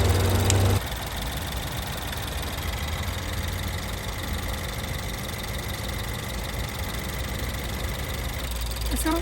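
A Mini Cooper R60 engine idling close by, a steady even drone that follows a brief louder moment at the start.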